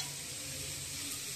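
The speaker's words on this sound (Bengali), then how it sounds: "আর এখানে আমার রান্না বসে গেছে, এখানে মুসুর ডাল হচ্ছে, আর এটা হচ্ছে আলু বেগুন দিয়ে মাছের তরকারি হচ্ছে" Lentils and a fish curry with potato and eggplant cook on the stove, giving a steady, even bubbling sizzle that holds throughout with no voices.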